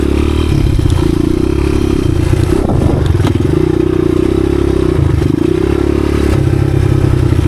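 A 1986 Honda XR200R dirt bike being ridden, its engine droning loud and close at steady revs with small rises, plus rattling and clattering from the chassis.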